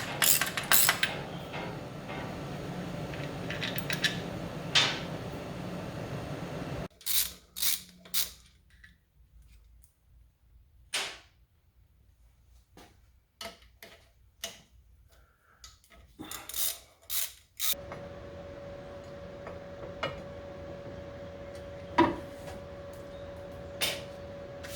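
Wrench work removing engine bolts on a 1979 Lotus Esprit: scraping, rubbing and ratcheting metal sounds in bursts, with clicks and clanks through a quieter stretch, then a steady hum with a few sharp taps, close by.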